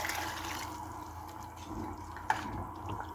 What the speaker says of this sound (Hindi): अब हम इसमें पानी शामिल कर देंगे 3 कप के बराबर।